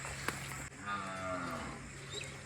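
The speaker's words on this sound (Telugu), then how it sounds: "ఇప్పుడే కోళ్ళు గేదెలు అన్నీ అరుస్తున్నాయి" Buffalo mooing at a village farmstead in the early morning, long low drawn-out calls with clear harmonic bellows, fairly near, over steady background ambience with a rooster also active.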